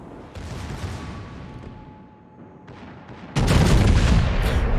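Naval guns fire from warships in the World of Warships game, with distant booms and rumbling that jump to a loud sustained roar of heavy gunfire near the end.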